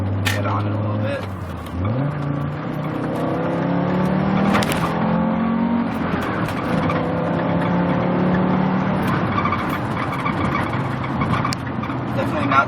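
A 1991 Audi Coupe Quattro engine pulls hard while driving on a road, its steady drone rising in pitch through the gears for several seconds, loud and close with a voice talking over it.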